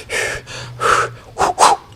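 Breath blown out forcefully and close, a fighter's relaxation technique: several sharp huffs and exhales in quick succession, loud and alone with no talking.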